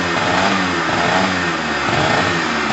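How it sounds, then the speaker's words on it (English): A Pulse Force 50cc motorbike engine runs steadily close by, a loud, continuous buzzing drone with slight revving fluctuations and no talk over it. "Once you've run this now, it will idle and stuff."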